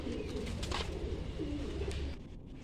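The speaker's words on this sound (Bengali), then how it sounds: "এই হলো মাদি পায়রাটা" Pigeons coo in a loft of domestic pigeons, a steady, low, throaty murmuring that runs close and fairly loud throughout before easing off near the end.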